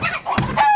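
Chicks in a coop cluck and squawk up close, several quick overlapping calls in under a second.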